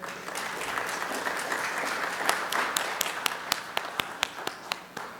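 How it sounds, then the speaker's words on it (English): Audience applause in a lecture hall at a talk on making a living with Perl: a dense wash of many hands clapping that thins out into a few separate loud claps near the end. "Some of you, yes, I heard some applause start."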